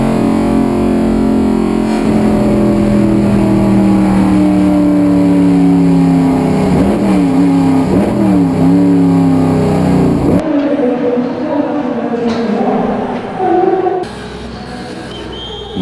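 A race car's engine roars at high revs as it speeds down the main straight of the Yeongam circuit, its pitch sweeping through gear changes before the sound suddenly drops away near the end.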